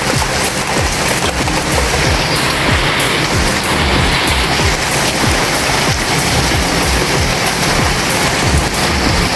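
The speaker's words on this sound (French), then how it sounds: "Les amis, on a de la grêle là." Hail with stones around 2 cm falls during an evening thunderstorm, a dense, loud, unbroken roar of pelting impacts on surfaces that holds steady throughout.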